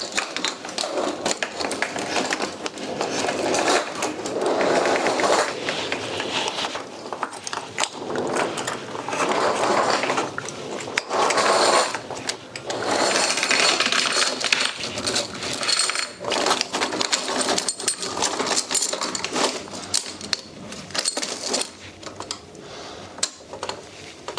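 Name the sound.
metal tank track being fitted onto a 1/6 scale Panzer IV model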